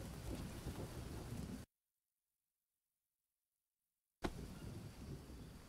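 Rain and thunder in the Green Hell game, a steady dense roar of rainfall with rumbling thunder that cuts out to silence for a few seconds and then resumes just as loud.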